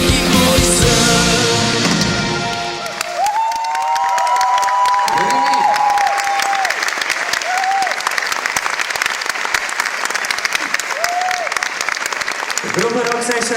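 Loud crowd applause and cheering for a rock band at a televised music contest, sustained clapping with whoops and shouts, an announcer's voice rising over it midway and near the end.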